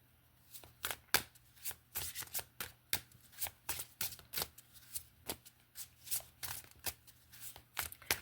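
A deck of playing cards is shuffled repeatedly, giving crisp riffling bursts and taps in an uneven rhythm, close and fairly quiet, with no talking.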